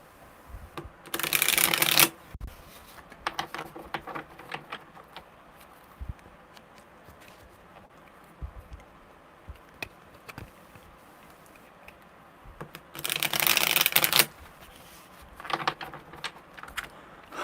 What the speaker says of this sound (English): Good shuffle. I like it when they're smooth like that